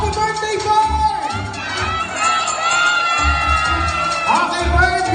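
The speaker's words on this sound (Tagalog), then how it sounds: "sigaw po tayo, happy birthday, Bert!" A birthday party crowd of children and adults shouts and cheers together, a loud continuous mass of overlapping voices filling the whole clip.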